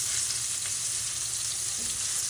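Small pieces of beef sear in hot oil in a pan, giving a loud, constant hiss and crackle of frying that carries on steadily without pause and without voices.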